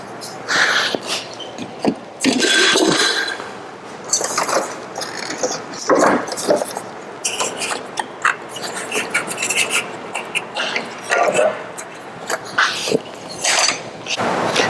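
Front headlight units being pried and popped free from a 1992 BMW E34 M5 during front-end disassembly, giving a series of loud plastic creaks, clicks and ratcheting snaps in irregular bursts, close up, with no talking.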